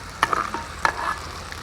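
Coconut pakoda sizzles steadily in hot oil while a spoon stirs and scrapes it twice, close up and with no talking.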